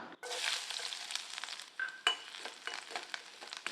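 Finely chopped garlic sizzling and crackling in a hot pan, with a few scrapes and stirs of a spoon, fairly close and steady.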